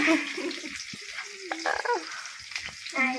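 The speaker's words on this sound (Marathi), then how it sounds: "तेलात कांदा टाकलाय गायत्रीने" Chopped onion sizzles in hot oil in a pan while chicken is being prepared for a home meal, a short crackling fry with faint voice-like tones drifting over it.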